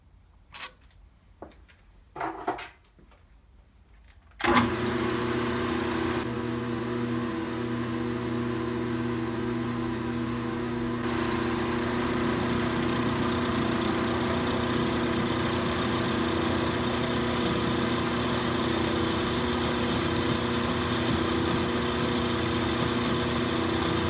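Logan metal lathe starting up after a few knocks and clicks, then running steadily for a long stretch with a constant mechanical hum and whine while a part is cut, no voices.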